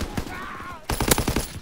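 Several loud gunshots fired in quick succession in Call of Duty: WWII, following a quieter stretch with lighter shots and game sounds.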